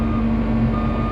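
A 10,000 lb skid steer backs up, its reversing alarm sounding a loud, steady beeping tone over a continuous low engine rumble with no talk.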